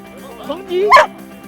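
Avalanche rescue dog at an end-of-season handlers' event in the mountains gives a single close, loud yelping bark lasting under a second, with a rising whine leading into it.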